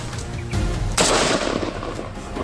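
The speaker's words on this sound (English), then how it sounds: "I raised my rifle and squeezed the trigger in one smooth motion." A rifle is fired at a wild boar on a hillside, a single loud sharp report close by. It rises over an already noisy, dense background and is followed by a rumbling tail.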